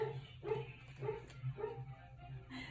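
A sleeping dog lets out soft, muffled yips and whimpering barks while dreaming, several short bursts in an uneven rhythm, faint and close.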